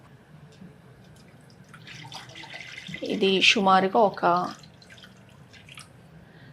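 Water poured into a pot on a stove while preparing a ragi drink, a close splashing pour swelling in the middle for about two seconds, with a person speaking.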